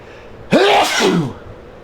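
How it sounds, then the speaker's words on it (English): A single sharp human sneeze bursts out after a short quiet lead-in, loud and close, then trails off in a breathy exhale. "I feel like I need to sneeze."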